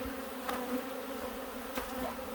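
A steady, droning hum of many Carniolan honey bee workers buzzing close by at an opened hive, continuous and even, with a couple of brief louder passes.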